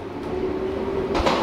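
The Odoriko limited express train rolls along the Izu Kyuko line on the east Izu coast, a steady low rumble with a constant hum, heard from inside as a brief clunk of wheels on track joints rises near the end.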